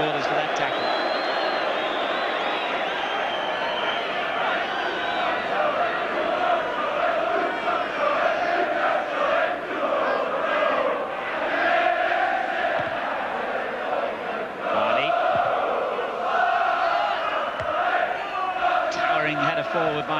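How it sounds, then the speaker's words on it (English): Wrexham supporters at a European Cup Winners' Cup football match roar and cheer across the stadium after a tackle, a sustained crowd swell that rises and falls continuously while a commentator talks over it. "Joey Jones earns the biggest cheer of the night from the Wrexham supporters for that tackle"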